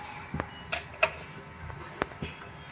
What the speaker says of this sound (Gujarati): બરાબર મિક્સ કરીશું।